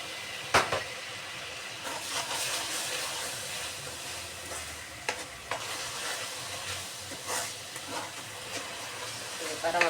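A small splash of water goes into a hot cooking pot, setting off a continuous sizzling hiss of steam with intermittent stirring scrapes and clanks; no clear talk over it.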